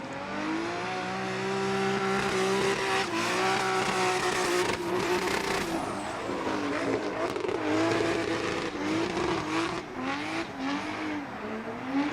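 A race car engine at Irwindale Speedway howls in 4th gear on the throttle, a loud sustained high-pitched roar with shifting harmonics as it runs near the wall, with crowd and track noise underneath.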